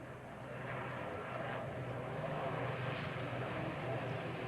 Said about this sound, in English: Aircraft will now be coming back towards the crowd